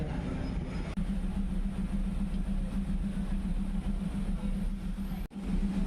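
A passenger train pulls out of a station near Rangsit on the line toward Don Mueang and Bangkok's Krung Thep Aphiwat terminal, with a steady low engine hum and rumbling wheels running continuously at close range.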